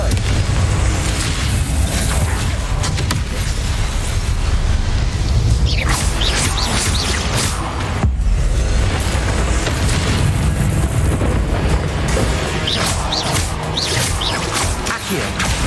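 Confringo blasting spells exploding in the Hogwarts Legacy video game, a dense, loud barrage of booming blasts and crashes running continuously with little pause.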